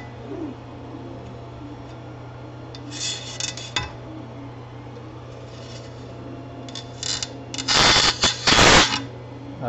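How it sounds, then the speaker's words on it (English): Leftover residue gets scraped off a metal 3D printer build surface, heard as close, brief scratchy strokes, a couple at first and then a louder cluster toward the end, over a steady low hum. "So we'll scrape the last little bits off."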